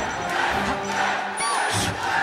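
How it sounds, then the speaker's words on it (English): A crowd at a Super Smash Bros. Melee tournament roars and shouts in excitement during a winners final match, a loud dense wall of cheering voices that swells in waves. "the crowd is going nuts for Tekk"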